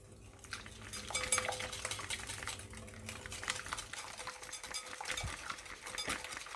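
A spoon scrapes and clinks against a bowl, stirring a dry spice mix of turmeric, dried coriander, cumin and garlic powder for crispy fried cauliflower. The rhythmic scraping is close but fairly quiet, with no talking.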